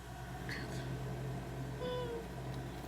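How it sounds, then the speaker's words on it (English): A cat gives two faint, separate meows, each a thin, drawn-out call, over a low steady hum. "look, it's a cat."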